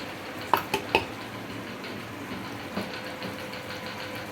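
A few quick metallic clinks of a utensil against a pot, then soft scraping stirring of chicken gravy with ground coconut over a steady low background hum.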